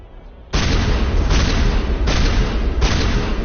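Shotgun fire in Mass Effect: four heavy, booming blasts about a second apart, each sustained and loud, following a quieter stretch of game ambience.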